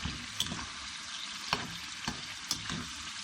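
Yakhni stock hits meat frying in a pot for a gosht dish, giving an even, hissing sizzle close by with a few soft stirring knocks spaced through it.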